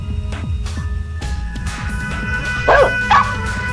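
Electronic-sounding dog barks and yips, a few short bursts repeating over a steady background hum, with two brighter chirping calls near the end.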